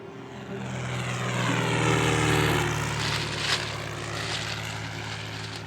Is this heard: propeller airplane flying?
yes